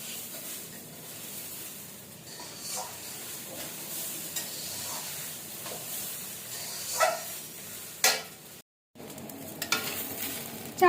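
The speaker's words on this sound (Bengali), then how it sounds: "চালটা ঠিক এরকম ভাজা হবে," Raw rice for cauliflower pulao being fried in a pan, with a steady soft sizzle broken by repeated scraping stirs, a few louder clatters, and one brief dropout near the end.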